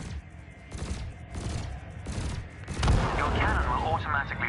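Ship cannon and laser fire in the space video game Elite Dangerous crack out in repeated, fairly loud bursts, overlapped by a voice speaking.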